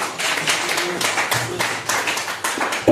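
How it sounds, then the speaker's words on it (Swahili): A church congregation claps together during a Sunday service, rhythmic bursts of many hands repeating roughly every half second in a reverberant hall, with faint voices underneath. "Pige Bwana Yesu makofi."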